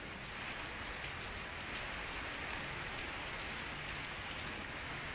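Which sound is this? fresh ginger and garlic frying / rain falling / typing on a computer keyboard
rain falling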